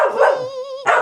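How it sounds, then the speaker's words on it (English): A dog barks close by in a few quick loud barks, with a drawn-out whine between them. "Do I hear the dog? Yes."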